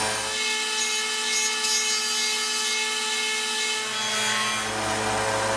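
Continuous, loud grinding hiss of sanding the edges of handmade earrings on each side, a steady abrasive drone with a faint machine hum underneath and no speech.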